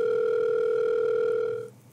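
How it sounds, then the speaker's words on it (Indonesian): A steady telephone dial tone holds for about a second and a half as a call is placed, then cuts off abruptly, with no talking over it. "Gue telepon dulu nih orangnya."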